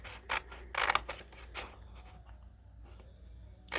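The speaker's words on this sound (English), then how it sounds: "So let's pull this out and go ahead and start cutting." Scissors snip pages from a magazine in several crisp, close cuts grouped in the first part, then a quieter stretch of faint paper handling before one more snip at the end.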